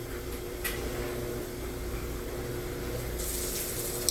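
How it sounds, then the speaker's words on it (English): Water runs steadily from a kitchen tap into a bowl for bread dough, a continuous even splashing stream, fairly quiet and heard alone without talk. "I'm just going to add some water."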